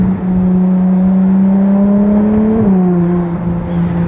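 A Ferrari Monza SP2 and 812 Competizione drive together, a loud sustained V12 engine drone holding a steady pitch, then dipping slightly as the revs shift, with no talk.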